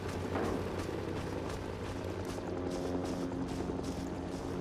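Helicopter in the Vietnam War shooter Rising Storm 2: Vietnam, a continuous low rotor thrum with engine drone, steady and fairly loud with muffled battlefield rumble around it.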